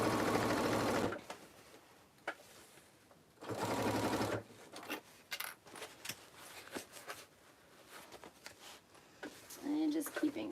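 A sewing machine fitted with a zipper foot stitches a zipper at about a 2.5 mm stitch length, running in two loud bursts followed by intermittent clicks, handling noises and scattered speech.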